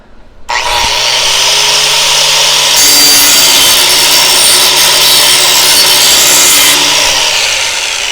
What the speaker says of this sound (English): my biggest use of an angle grinder is often sharpening mower blades